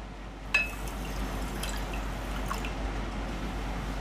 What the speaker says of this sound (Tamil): ஒரு கப் தண்ணி ஊற்றிக்கிறேன்